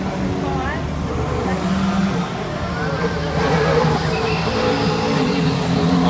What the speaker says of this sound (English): And here comes Nico Rosberg pulling out of the garage now.